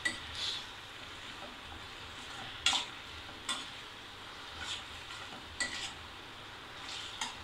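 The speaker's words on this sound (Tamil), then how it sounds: "இப்போ நம்ம வேக வச்சு வச்சுருக்க உருளைக்கிழங்கு அதில் சேர்க்கணும்." Boiled potatoes stirred into a spicy masala gravy in a pan, giving faint soft scrapes and a few brief clinks spread across a quiet background, with no one talking.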